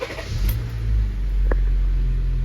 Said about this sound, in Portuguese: E eu vou ligar o carro aqui